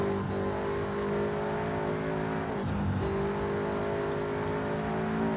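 A racing car engine in a driving video game holds a steady high-pitched roar, briefly dipping during a gear change midway before climbing again, loud and close with no talk.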